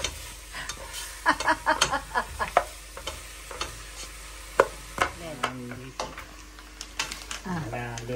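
A spoon stirs chicken necks in a pot of simmering soup, with repeated scraping taps against the pot over a soft sizzle, and a voice talking between the strokes.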